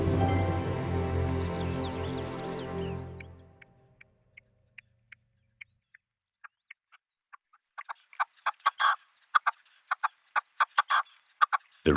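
A red-legged partridge hen calls to her well-grown chicks in Mediterranean woodland. A loud, harsh, rattling call is followed by quiet, evenly spaced short notes, then a faster run of sharp clucking chips.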